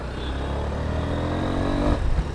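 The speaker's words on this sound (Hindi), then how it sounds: "So let's start riding the bike right away." A Honda NX200 motorcycle engine hums steadily and climbs in pitch as it accelerates, close by, with a rising drone and no voices.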